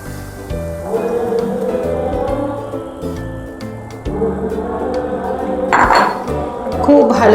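A metal spoon stirs coconut milk in a cooking pan for cucumber shukto, giving steady scraping and clinking against the pan that carries through the whole stretch and grows busier near the end.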